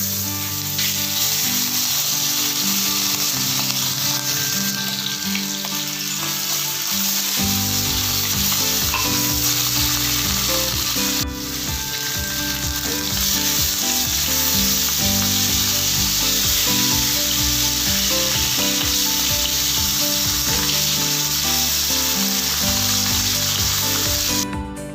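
Fish pieces coated in turmeric and salt fry in hot oil for an Assamese pumpkin fish curry, giving a loud, steady, close sizzle that runs unbroken for the whole stretch with no talking.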